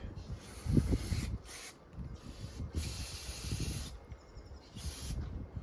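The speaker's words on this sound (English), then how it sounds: "This is called the throat of the carburetor. We're just going to clean out the throat." Cleaner is sprayed into the carburetor throat of an old lawnmower that had sat unused for a long time, in about four short, sharp hissing bursts separated by quieter gaps.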